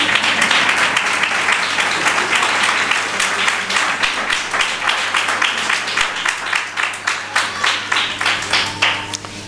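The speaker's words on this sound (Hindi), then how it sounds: "हाँ जी, बजा लें तालियां।" Congregation applauding during a New Year church sermon, a steady wash of many hands clapping that lasts throughout and gradually thins into more distinct individual claps near the end.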